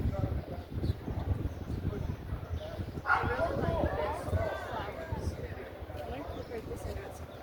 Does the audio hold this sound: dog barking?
yes